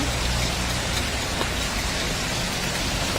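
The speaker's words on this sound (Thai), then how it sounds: "ช่วงนี้ฝนตกเยอะหนาว" Steady heavy rain pours down continuously, a dense hiss of drops hitting surfaces with no break.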